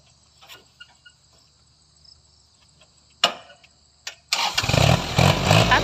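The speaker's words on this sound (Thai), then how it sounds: "เดี๋ยวไปชมเสียงเครื่องกันนะคะ" A Kubota L3208SP tractor engine cranks and catches after a few quiet clicks and knocks, then settles into a loud, steady diesel idle up close.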